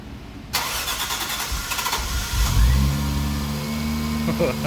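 A car engine fitted with a newly installed turbo manifold fires up for its first start: a starter whirr, a sharp catch and a rev, then a smooth, steady idle, close by.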